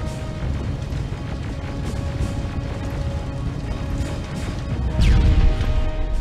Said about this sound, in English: defense grid is smashed!